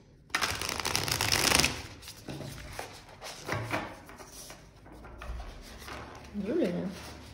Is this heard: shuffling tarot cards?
yes